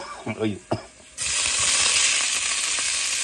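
Garlic sizzles loudly in hot cooking oil in a pan for a Filipino pork and vegetable sauté, a steady broadband hiss that starts abruptly after a few brief knocks and speech-like sounds.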